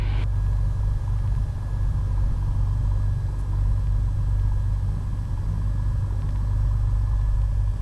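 Piper Comanche 250 piston aircraft engine idling at 1,000 RPM, a steady deep rumbling drone with a constant low throb, close and loud throughout with no talk.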